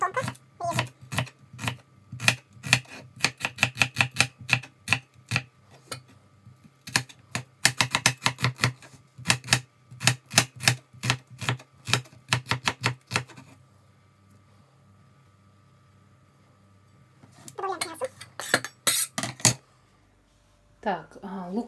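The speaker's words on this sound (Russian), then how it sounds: "Лук я режу" A knife slices an onion into half rings on a cutting board for a meat and potato pie, making rapid, crisp chopping taps in quick bursts. A quiet pause follows before a last short flurry of cuts.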